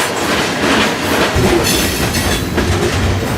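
A freight train rolls along with steady clickety-clack of wheels on rail joints and a dense rumbling roar, recorded up close from aboard a car, with brief metallic squeals breaking through.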